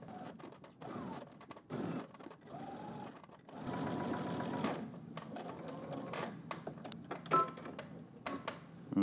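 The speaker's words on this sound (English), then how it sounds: "we're gonna stitch on the right side here of that seam with your seam allowance facing your facing as well." A home sewing machine understitches along the facing seam of a pair of jeans. It runs in short, close bursts of rapid mechanical whirring and clatter with brief pauses between, plus small handling knocks.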